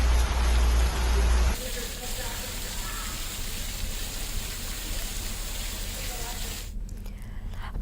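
Monsoon rain falls across a city as a steady, even hiss of drops that runs on after a short louder opening section, then cuts off abruptly near the end.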